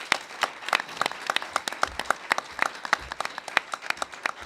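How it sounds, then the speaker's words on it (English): A modest audience at an alumni panel event claps for an organizing committee, with distinct individual hand claps popping sharply and irregularly above a light wash of applause. "please clap it up for them"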